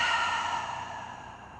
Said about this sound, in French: expire tout par la bouche comme un long murmure